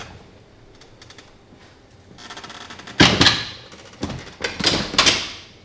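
Hotel suite door at Shades of Green shutting, its loose latch bouncing and rattling: quiet light ticks first, then a loud close slam followed by a burst of quick metallic clacks and knocks.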